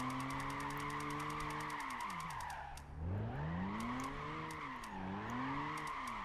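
Toyota Tacoma drifting in Gran Turismo 5, with a steady loud engine drone and continuous tire squeal that dips and sweeps in pitch as the truck slows mid-slide and then climbs again on the throttle.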